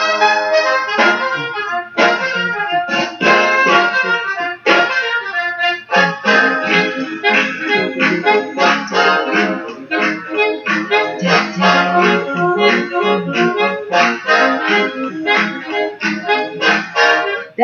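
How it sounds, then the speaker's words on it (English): Big band era swing music plays loud and continuous, a bright brassy ensemble with a steady bouncing rhythm and punchy accents throughout, with no talk over it. "That's the sound of the big band era."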